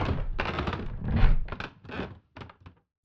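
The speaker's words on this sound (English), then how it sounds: "then even more creaks to make it sound complete." Layered wooden floorboard creaks built up for sound design, a run of several separate creaks and groans with short pauses between them, fading into quieter creaks at the end.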